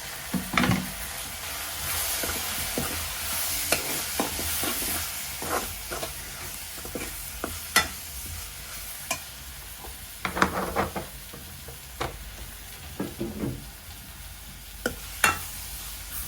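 Chili powder masala sautés in a pan for a Kilinochchi-style prawn curry, a constant sizzle and hiss under scattered scraping strokes of a spoon, close and fairly loud.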